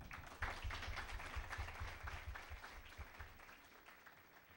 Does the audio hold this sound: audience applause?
yes